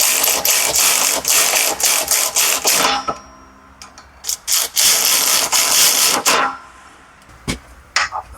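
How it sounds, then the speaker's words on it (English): Connecting rod bolts being tightened on a 2015 Silverado rod clamped in a vise: close, rapid bursts of ratcheting clicks in several runs, separated by short pauses. "we've got a connecting rod clamped in the vise so we can tighten our bolts down and torque them to spec"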